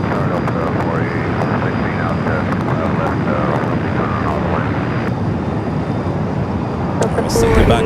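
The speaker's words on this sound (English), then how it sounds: "Sichuan coming in from Chengdu, flight 3837 in the Panda route livery, the A350-900" A Sichuan Airlines Airbus A350-900 in Panda livery arrives at Los Angeles LAX from Chengdu. Its engine roar runs steadily beneath a person talking throughout, and the level swells slightly near the end.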